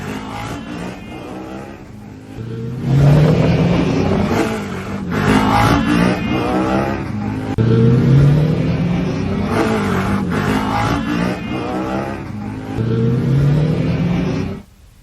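Motorbikes rev hard on a one-way road as bikers perform stunts, engines surging and falling in repeated loud bursts, close by, with a steady traffic rumble underneath.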